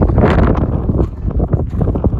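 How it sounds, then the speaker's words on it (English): Loud wind buffets the microphone at Rhyolite, Nevada in steady low rumbling gusts, roaring without pause throughout. "Ooh, it's windy."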